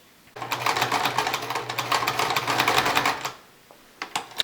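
A sewing machine stitching fabric for a face mask runs in one close, steady, rapid whirring burst of about three seconds, then stops, followed by a few small clicks.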